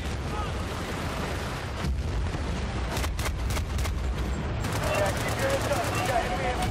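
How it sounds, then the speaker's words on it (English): A mortar strike in Battlefield: Bad Company 2 multiplayer on PS3, heard as a few sharp blasts and bursts amid a continuous battlefield rumble, loud and close. "Mortar strike."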